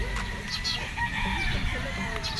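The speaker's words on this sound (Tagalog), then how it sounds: "pasadahan lang natin mga tol para makita nyo yung mga manok ng EAJ dito" Pure Gilmore gamefowl roosters crow close by, several loud, drawn-out calls overlapping one another against a busy background of other birds and faint murmuring.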